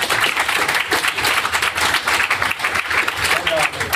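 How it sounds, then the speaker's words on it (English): Steady applause from a conference audience fills the whole stretch, a dense wash of many hands clapping at once. "let's give him a round of applause"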